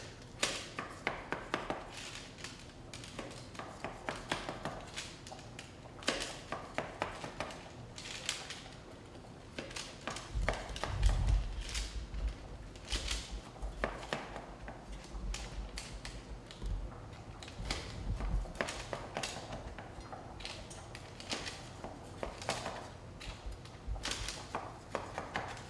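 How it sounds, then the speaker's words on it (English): Baked biscotti cut into half-inch slices with a knife, a quiet run of irregular crunching chops and taps on a board, fairly faint and close, with no talking. "So now we're going to cut it into about half-inch slices like this."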